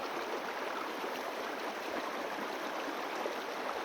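A river flows nearby with a steady, broad rushing wash. It stays even and continuous throughout, with no other sounds.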